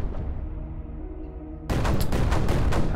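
Cannons fire in the video game Creeper World 4, a dense rapid volley of loud booms that breaks in suddenly after a quieter rumbling stretch and keeps pounding to the end.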